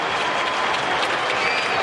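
Football crowd at an AFL match between Sydney Swans and Gold Coast roaring and applauding a Swans goal that levels the scores, a dense, sustained wall of clapping and cheering with no break.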